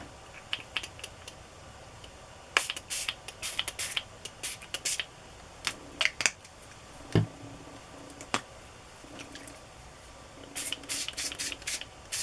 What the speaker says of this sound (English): If I spray it, that design will really come through